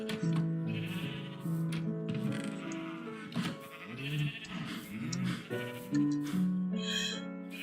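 Video game farm sheep bleat again and again across several seconds, overlapping wavering calls of differing pitch, close and steady, with a few soft clicks between them and no voices.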